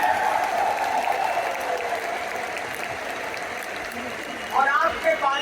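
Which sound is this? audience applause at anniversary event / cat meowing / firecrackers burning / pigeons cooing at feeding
audience applause at anniversary event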